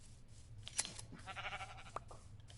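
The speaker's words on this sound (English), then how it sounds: "And there's a sheep right there." A sheep in the Minecraft video game bleats in short, thin game-style calls, with a sharp blip and a brief wavering bleat standing out over quiet background sounds.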